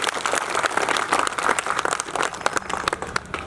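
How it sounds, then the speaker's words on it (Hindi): A seated crowd at a Hindi political rally in the Ahirwal region gives a big round of clapping, dense and steady for a few seconds at moderate loudness, with no voices standing out. "एक बड़ी ताली बजा दीजिए।"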